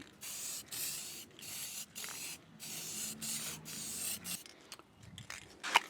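Spray paint can laying a light coat on a 1967 Ford truck, a series of short hissing bursts in a quick, fairly regular rhythm, close and moderately loud, followed by softer rattling and handling noise.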